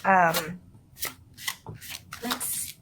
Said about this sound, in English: Let's pull a card for your